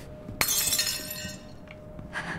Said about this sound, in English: Some glass broken.